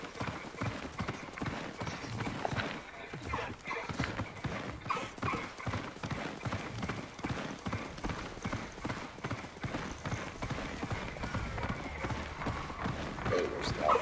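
A horse gallops in Hogwarts Legacy, with rapid, continuous hoofbeats pounding in a steady rhythm, close and fairly loud, overlaid by ambient game music and the occasional soft voice.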